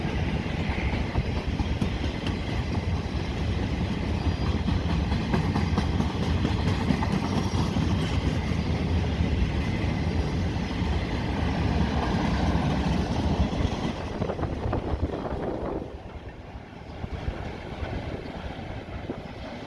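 A freight train of continuous welded rail cars rolls past at close range, a steady loud rumble and rail clatter that fades sharply near the end as the last cars clear.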